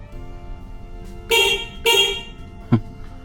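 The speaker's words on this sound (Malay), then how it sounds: "Horn works." Car horn of a Perodua Kancil sounding after a steering swap: two short honks close together, then a brief third blip, loud and near in a quiet setting.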